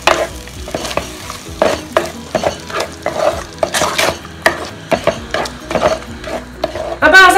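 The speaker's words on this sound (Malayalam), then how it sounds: "ഈ മസാല ഇട്ട് കൊടുത്തു കഴിഞ്ഞാൽ ഒരു 3-4 മിനിറ്റ് ഇതിലൊന്ന് വഴന്നു വരണം കേട്ടോ" Masala for a milkfish curry sizzles in a pan while a utensil stirs and scrapes it in repeated close strokes, with clinks of metal against the pan throughout.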